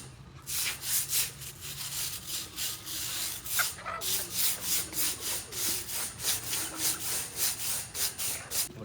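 A brush scrubs rust off wire mesh at an open organic chicken farm, making rhythmic back-and-forth rasping strokes, steady and fairly close.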